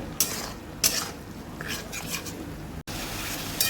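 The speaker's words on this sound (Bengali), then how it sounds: "এবার এটাকে একসাথে মশলার সাথে কষিয়ে নেব।" Bottle gourd and meat stir-fried with spices in a pan, heard as scraping spoon strokes and clinks of utensil against metal over a faint sizzle, with a few sharper knocks and no voices.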